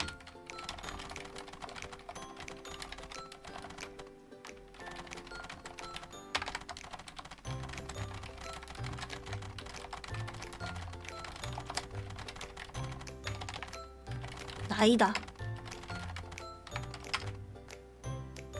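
Rapid hunt-and-peck typing on a computer keyboard, a fast dense stream of clicky keystrokes running continuously, with background music underneath and a brief spoken word.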